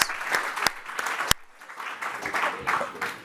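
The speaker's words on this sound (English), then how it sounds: "let's give a round of applause for Heather" A summit audience gives a round of applause for a speaker, a dense, steady patter of many hands clapping at close range with a few sharper claps standing out.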